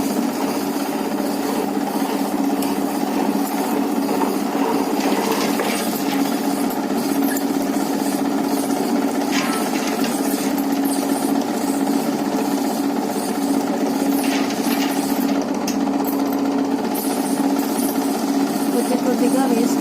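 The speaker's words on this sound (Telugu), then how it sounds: "నానబెట్టుకున్న పప్పుని గ్రైండర్లో వేయాలి" A wet grinder churns soaked urad dal in a continuous, even whirring drone with faint scraping, running steadily throughout.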